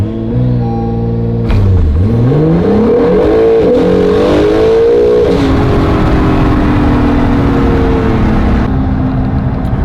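K-swapped Honda NSX on an ethanol tune accelerating hard, engine note climbing through gears with a shift break, loud and close from inside the car.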